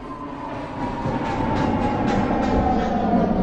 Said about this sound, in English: Downtown, local 8 train. Approaching the station, please stand away from the platform edge.